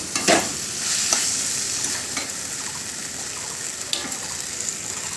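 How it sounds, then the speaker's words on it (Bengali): Paneer and parboiled potatoes stirred in a pan, a steady soft sizzle with scraping stir strokes and a few louder clinks of the spatula, close and alone. "এবার আমরা এই পর্যায়ে পনিরটা দিয়ে দিলাম, দিয়ে নাড়তে থাকবো"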